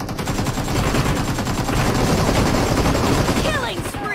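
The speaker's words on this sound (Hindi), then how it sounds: "इस भाई मैं गोली चलाते हुए निकलूंगा घर से" Rapid automatic gunfire rattles in a team deathmatch shooter game, dense bursts of shots filling the clip with a few short sweeping effects near the end.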